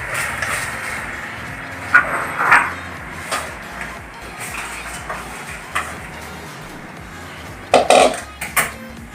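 Fried dried red chillies being tipped from a pan into a vessel for a mango chutney, with several sharp metallic clinks and scrapes of utensil on pot, a louder cluster near the end.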